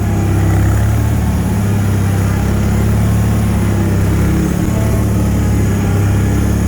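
A Bolens HT-23 garden tractor engine runs steadily and loudly nearby, a continuous low droning rumble with no talking.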